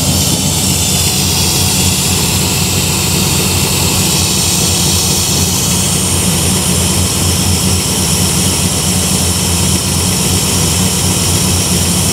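A Chevy K10 engine fitted with Holley Terminator X fuel injection idles slightly high, a loud, steady, unbroken roar with a deep rumble that holds without change from start to finish.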